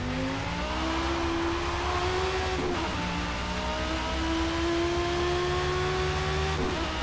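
Ferrari F40 racing car engine at Daytona in a racing video game, accelerating hard with a steady rising whine that climbs through the gears, loud and continuous throughout, with no talking.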